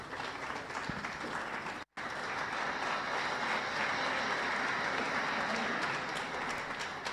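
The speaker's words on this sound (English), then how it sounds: "we give His Excellency a better clap." A conference audience at a regional IGAD state of the region address gives sustained applause, a steady dense clatter of clapping hands throughout, with a brief cut near the start.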